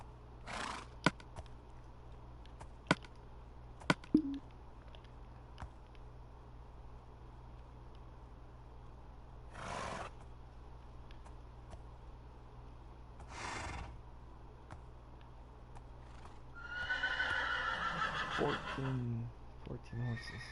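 Horses in a PS4 video game whinny in short bursts, with a louder, longer neigh near the end, over a steady low game background hum and occasional clip-clop.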